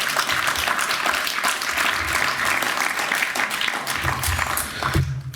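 An audience at a talk applauds loudly and densely, clapping in a sustained burst that eases slightly toward the end, with no speech over it.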